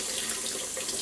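Water runs steadily from a kitchen tap over shrimp being rinsed, a close, even splashing hiss with no voices.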